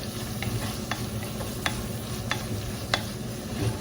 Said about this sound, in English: We're going to add our curry leaves now.